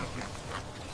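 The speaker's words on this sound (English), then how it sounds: "This is a piglet." A piglet grunts in short snorting bursts, close and moderately loud, with a sharper squeal at the very end.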